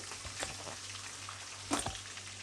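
Curry leaves and green chillies frying in hot oil for carrot rice give a constant soft sizzle with a few brief stirring scrapes and pops, no talking.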